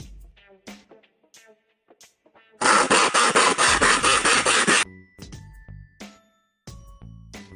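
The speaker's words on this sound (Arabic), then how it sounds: "منشار." A hand saw cuts through wood in one loud burst of rapid rasping strokes lasting about two seconds, set between soft melodic notes.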